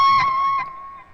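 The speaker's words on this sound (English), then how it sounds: "It's almost like a spooky shriek." An electric guitar holds a slid and bent note with a wavering, uneven vibrato, part of a solo. The note rings up front and alone, sustaining, then fades away.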